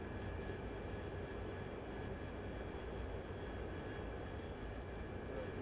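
F-16 jets fly in the DCS combat flight simulator, a steady broadband engine roar that holds an even level throughout, with a faint tonal whine above it and no speech.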